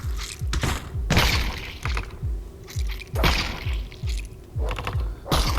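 Small slug enemies bursting one after another in the Ancient Dungeon game, a run of wet, thudding pops with splashy crackle, repeating every half second or so at close range with no talk.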